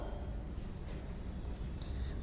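A pencil scratches softly across a page in a school worksheet book, a faint, continuous writing sound close up against a quiet room hiss.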